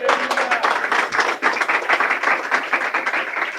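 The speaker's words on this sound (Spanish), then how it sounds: "vamos a regalarle un aplauso al que vive en esta hora" A church congregation gives a round of clapping during an anniversary service, a dense patter of many hands lasting a few seconds at steady strength before tapering off briefly and resuming.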